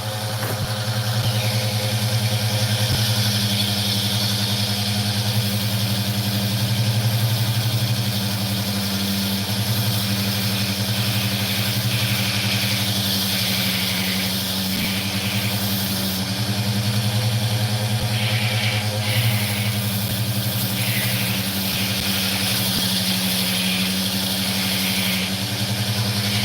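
A rotary tool with a flexible shaft bending too hard in its casing runs continuously while cutting opal, a steady whining, buzzing drone with a rattly vibration holding constant throughout.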